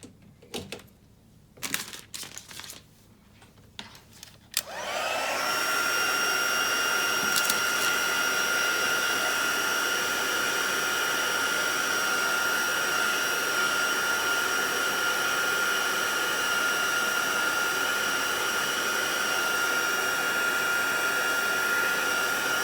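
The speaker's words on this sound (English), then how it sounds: "I'm also going to bring that heat tool in, and I'm just going to dry off the shimmery white card" Handheld heat tool blowing hot air to dry shimmery white cardstock, starting abruptly after a few soft clicks and handling noises, then a loud steady whirring roar that continues unbroken to the end.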